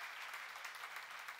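A church congregation claps along, a faint, steady wash of many hands heard from a distance, brief and without voices.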